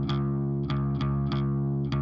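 Gritty, distorted bass notes repeating in an even pulse, buzzing with bright upper harmonics, loud and sustained with no voices.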